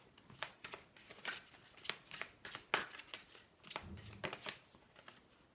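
Tarot cards are shuffled in a series of crisp, rapid riffling bursts with short gaps between them, close and fairly quiet, with no talking.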